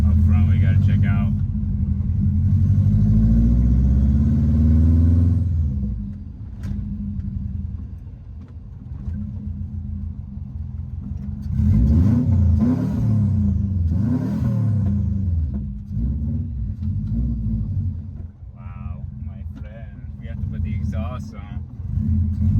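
Engine of a Subaru bugeye STI running with an unidentified noise up front, a steady low rumble that swells and revs in places, with people talking over it throughout.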